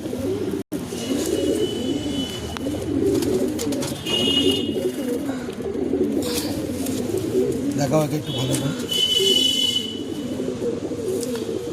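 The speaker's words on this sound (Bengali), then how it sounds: "এটা কিন্তু গিরিবাজ পায়রা।" A large Giribaz pigeon coos among other birds, a steady low rumbling murmur with occasional chirps, while people talk close by.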